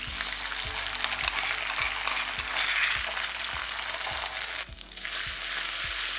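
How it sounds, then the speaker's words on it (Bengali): Nigella seeds, crushed ginger and green chili sizzle loudly in hot oil for a vegetarian eggplant dish. A utensil scrapes the pan in a steady rhythm, the hiss dips briefly partway through, and no voice is heard. "তারপর এর মধ্যে দিয়ে দেবো 1/2 চা চামচ কালো জিরে। তারই সাথে যে আদার কাঁচা লঙ্কাটা ছেঁচে রেখেছিলাম সেটাও এখানে দিয়ে দেবো।"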